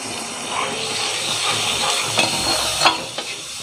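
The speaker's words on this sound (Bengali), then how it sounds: "এখন আমি এই মশলা প্রায় 8 থেকে 10 মিনিটের মতো ভালোভাবে কষিয়ে নিব" Ground spices sauté in a hot pan for a beef dish, a dense close sizzle and steamy hiss broken by a few sharper scraping stirs, with no voices.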